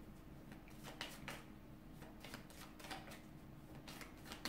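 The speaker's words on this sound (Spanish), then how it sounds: "Vamos a ver, vamos a barajar." A deck of tarot cards is shuffled by hand, giving soft repeated riffling and papery flicks in an irregular rhythm, close and fairly quiet over a low steady background hum.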